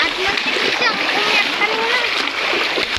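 Continuous splashing and sloshing of feet wading through murky flood water, close by, with children's voices chattering over it.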